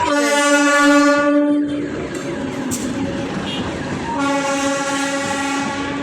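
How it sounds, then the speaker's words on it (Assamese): A train rumbles past close by, its horn blaring loudly at the start and again near the end over a steady rush of wheels. "এটা ট্ৰেইন আহি গ'ল ওই ওচৰতে"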